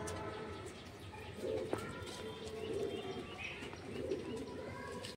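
Domestic pigeons in a Kharagpur loft holding tournament-bred birds coo in a steady, overlapping low murmur, with a few clearer coos rising near the middle and end of the stretch.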